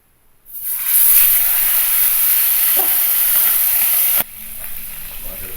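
Pieces of milkfish (bangus) drop into hot cooking oil in a pan, setting off a loud, steady hiss and sizzle that holds strong and then eases slightly after a few seconds. No voices.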